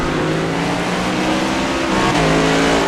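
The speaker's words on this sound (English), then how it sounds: "There, you hear the car upshift," A loud race car engine in a racing video game revs high, then its pitch drops sharply as the car shifts up a gear and keeps accelerating.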